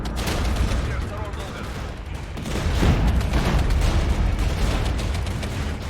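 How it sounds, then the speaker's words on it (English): BMP-2 and BMP-1 infantry fighting vehicles and T-80BV tanks firing in a Cold War real-time strategy game: dense, continuous volleys of gunfire and booms over a heavy rumble, loud and sustained throughout. "All right, BMP-2s are firing. BMP-1s are firing. T-80BVs are firing."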